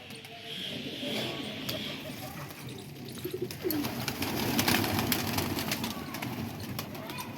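Pigeons perched on the netting of a rooftop loft coo softly and steadily, their low, throaty calls continuous against a grainy background hum.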